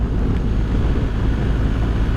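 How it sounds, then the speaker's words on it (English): Steady, close wind buffeting and low rumble while riding a BMW R1250GSA adventure motorcycle along a windy coastal road toward Bristol, a continuous dense roar with no talk. "a little bit windy"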